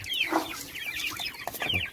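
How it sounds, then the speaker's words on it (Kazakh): Month-old chicks being fed scattered white wheat on a farm, making several short close clucks and chirps. "Мынау бізде бір айдан кеткен балапандар"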